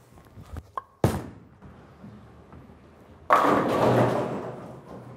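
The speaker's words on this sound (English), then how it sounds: "as it went through the pins, didn't quite get through the pins, still struck, but definitely deflected there" A bowling ball crashes into the pins after being thrown on an oily lane, a sudden loud broad burst of clatter that swells and rings out for about two seconds, preceded by faint thumps and the ball's low roll.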